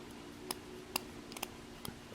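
A sharpened knife edge carrying a burr snags on paper during a sharpness test, making a handful of faint, short scratchy catches spaced irregularly over a quiet background.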